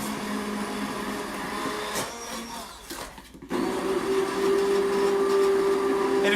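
A hand blender purees tomato soup in a pot, whirring steadily, dipping briefly as the blade is lifted, then restarting louder with a strong, even motor drone.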